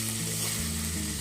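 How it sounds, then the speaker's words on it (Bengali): Jackfruit seeds fry in a pan for a taro-stolon and dried chela fish chorchori, giving a steady, close sizzle with a soft stirring scrape and no voices. "দর্শক, আপনারা দেখতে পাচ্ছেন আমার কাঁঠাল মুচি প্রায় কষানো হয়ে গেছে।"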